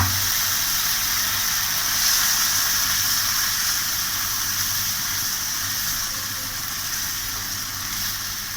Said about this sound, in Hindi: थोड़ा सा भूनिए, थोड़ा सा पानी शामिल करके।